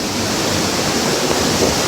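A steady, loud roar of falling water fills every moment, heard from inside the cave behind a waterfall in Wadi Mujib, Jordan, with no voices.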